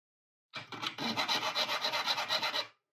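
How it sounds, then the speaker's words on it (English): An oscillating multi-tool cutting inside a Nord Lead 2 synthesizer keyboard, a harsh buzzing rasp with rapid pulsing that starts abruptly, runs steadily for about two seconds and stops, close and without talk. "Then I tried to multi-tool it."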